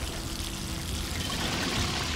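Water flowing into a space in the God of War 3 video game, a steady pouring rush with low churning underneath, continuous and fairly soft, with no voices.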